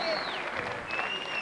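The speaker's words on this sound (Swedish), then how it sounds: "En jättestor applåd" A concert audience applauding at a live 1987 show, a short wash of clapping with thin sliding tones above it.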